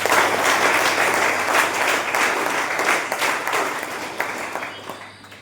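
An audience at a college speech event claps for an NCC officer, a loud sustained round of applause that slowly thins and fades toward the end.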